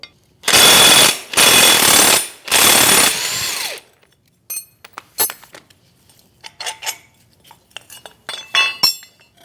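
A 21mm wrench and socket work the mounting bolt out of a rear trailing arm bracket on a 2016-2025 Chevrolet Malibu: three loud, sustained mechanical bursts close by, followed by scattered metallic clinks and tool rattles.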